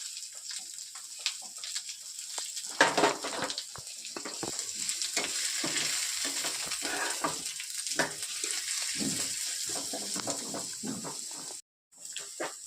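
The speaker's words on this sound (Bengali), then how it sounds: "পেঁয়াজটা বেশ লাল লাল ব্রাউন কালারের ভাজা হয়ে গেছে" Finely chopped onions, three large ones, frying to a reddish brown in a pan for palak paneer, giving a steady soft sizzle with stirring scrapes and a brief break near the end.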